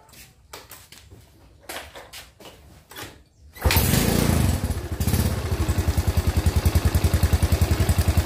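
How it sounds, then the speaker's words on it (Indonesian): A Yamaha Mio Soul motorcycle, whose rear wheel had been heavy and hard to turn, cranks with a few clattering starter thumps, then fires up loudly and settles into a close, rapidly pulsing idle. "saya akan coba untuk menghidupkan motor ini"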